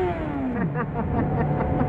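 A Yamaha XJ6 motorcycle engine revs hard close by, its pitch sweeping down and then climbing again in repeated throttle blips that drone steadily for about two seconds.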